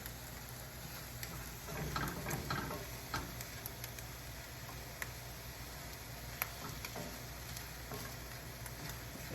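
Eggs with cheese, hot sauce and milk sizzle softly in a pan on the stove, a steady faint crackle with occasional ticks and a brief stirring scrape early on.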